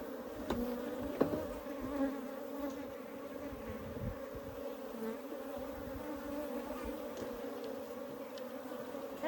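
A dense, steady hum of many honeybees buzzing close by at a hive in a water meter box, faint and continuous, with a couple of light ticks.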